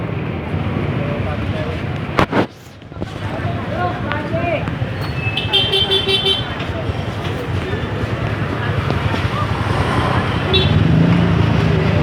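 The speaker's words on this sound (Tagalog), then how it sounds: "So, traffic." Steady street traffic rumbles through a busy Divisoria market, with engines droning and short horn toots rising above the din, while people talk nearby.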